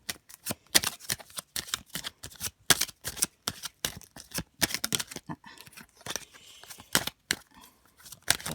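Tarot cards are shuffled and drawn by hand, a rapid series of crisp riffling and slapping bursts with brief pauses between, close and fairly clear, with no talking.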